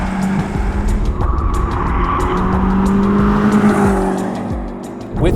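A 2020 BMW M8 Coupe with a turbocharged engine, heard as a loud, steady engine drone with rising and falling pitch as it accelerates, up close and with no talking over it.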